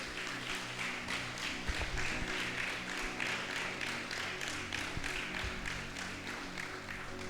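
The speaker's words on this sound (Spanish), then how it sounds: "Denle un fuerte aplauso al Señor." A church congregation claps together in a strong, rhythmic, evenly paced beat that holds steady throughout, loud and full like a worship service.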